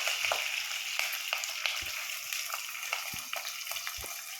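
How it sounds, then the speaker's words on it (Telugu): Curry leaves and onions frying in hot oil, a steady broadband sizzle with scattered crackles and a few soft low thuds, fairly close and continuous, with no voices. "ఇందులో నేను వచ్చేసి కరివేపాకు, ఆనియన్స్ వేస్తున్నాను"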